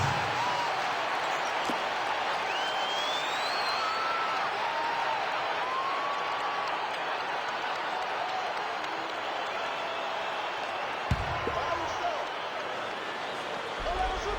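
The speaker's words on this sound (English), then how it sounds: "Give them a round of applause, fans." Arena crowd in an NBA basketball video game simulation of the 2011 Mavericks versus Heat, giving a steady wash of applause and cheering throughout, with a commentator talking over it.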